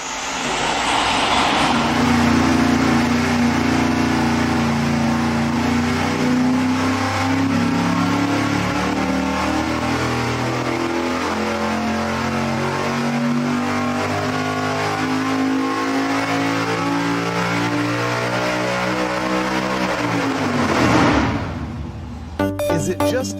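Supercharged engine on a dyno pulling through a full sweep, loud and close, its tone climbing steadily with audible surges as it comes on and off power, then cutting off near the end.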